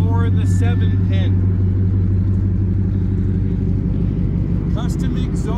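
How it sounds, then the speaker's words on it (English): A deep, steady engine idle rumbles close by with a throaty, low tone from the custom exhaust of a 2017 Ram 1500 Tradesman crew cab pickup, while a person talks over it. "Custom exhaust. This truck sounds absolutely amazing."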